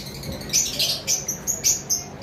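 Double red factor conures chirp in quick, shrill bursts, about six to eight short calls in a couple of seconds. The calls are close and fairly loud over a soft background hum.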